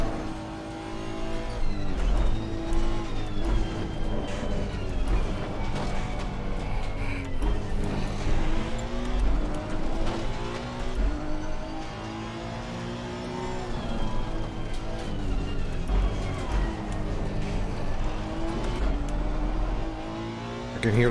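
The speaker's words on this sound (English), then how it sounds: "I can hear the front tires screeching a little bit" A Honda NSX Evo race car in a racing video game at Mount Panorama drives steadily, its engine droning and shifting pitch through gears while the front tires squeal faintly now and then, with no talk.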